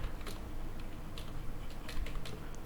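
Typing on a computer keyboard while editing a resume in MS Word, a steady run of soft, close key clicks at a quick uneven rhythm with no talking.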